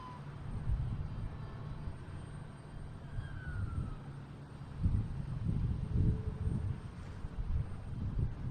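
An airliner arriving from Copenhagen at Boston Logan airport, a low, steady distant engine rumble with wind buffeting the microphone, fairly faint, no talk.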